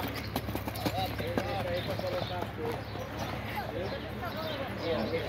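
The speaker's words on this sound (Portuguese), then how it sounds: "Cavalo bacana aí do nosso amigo Márcio." Horse hooves clip-clop at a horse fair in Canafístula de Frei Damião, Alagoas, a scattered run of hoof knocks close by amid crowd chatter and voices, with occasional animal sounds in the background.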